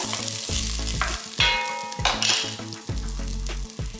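Chopped ginger drops into a pot for a vegan carrot-ginger soup and sizzles loudly and steadily, with some stirring and a faint clatter throughout.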